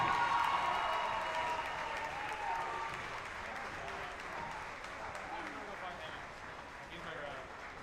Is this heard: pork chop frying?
no